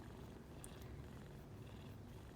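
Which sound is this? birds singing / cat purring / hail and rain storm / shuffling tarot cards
cat purring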